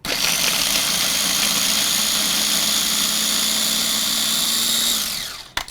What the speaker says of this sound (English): So we're going to add the garlic and the ginger to the food processor.